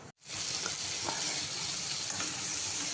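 Bitter gourd fries in a hot pan with a steady, loud sizzle that fills the whole clip after a brief quiet start, with occasional faint stirring clicks.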